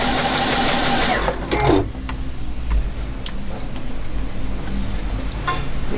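A Juki DX7 sewing machine stitches fine fabric with a rapid, even mechanical ticking and whir, close and continuous, briefly pausing before resuming at a steady pace.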